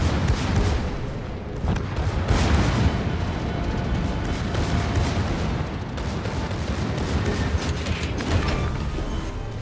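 Battleship main guns firing at a target in a naval video game with a Tier 10 German battleship, heavy booming salvos and rumbling blasts rolling one after another over a continuous dense mechanical background.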